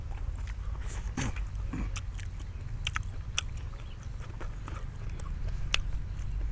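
Boiled beef tail being bitten and gnawed, with close, wet chewing and crunching in sharp irregular clicks over a steady low background hum.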